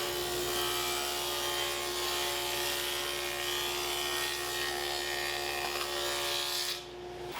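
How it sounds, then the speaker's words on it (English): Table saw running a dado cut along plywood strips for a torsion box assembly table, a loud steady whirring drone with a constant tonal hum held for nearly seven seconds before the load drops away. "I'm going to just run a dado on each side of my wider strips"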